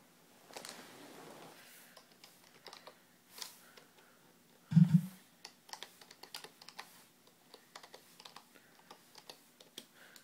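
Someone types on a computer keyboard near an old HP machine, giving scattered, fairly faint key clicks in uneven bursts, with one louder thump partway through.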